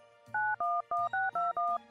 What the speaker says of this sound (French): Zoku Noël prend alors son téléphone.